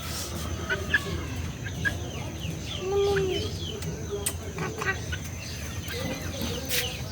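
Backyard chickens cluck and murmur close by, with one louder drawn-out cluck in the middle, over a busy outdoor background with faint voices.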